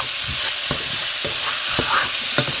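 Vegetable soup ingredients for a vegan soup being stirred in a pot, a loud steady sizzle with a few rhythmic scraping strokes, close up with no talking.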